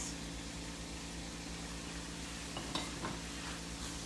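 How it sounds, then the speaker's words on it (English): Tofu stir fry sizzling steadily in a pan on the stove, a continuous frying hiss with a few soft scrapes and clatters of stirring toward the end, no voices. "So you want to stir it up a little so it cooks evenly."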